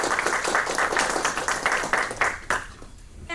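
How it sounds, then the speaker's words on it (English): Audience clapping for the dean at an academic film screening event, a brisk round of applause from a modest crowd that tapers off near the end. "Round of applause for our Dean, please."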